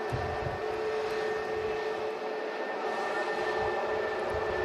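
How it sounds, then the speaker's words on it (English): An airliner at Manchester Airport gives a steady, broad engine roar that stays loud and continuous throughout, with no speech. "There's a lot of new airliners out and about these days at Manchester Airport."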